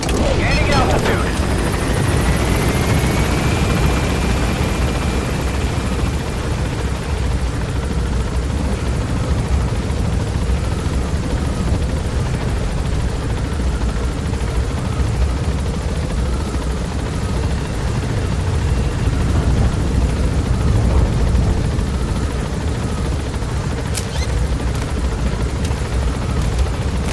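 Helicopter in Metal Gear Solid V climbing: a loud, steady rotor thrum and engine roar fills the whole stretch, with a voice speaking faintly under it.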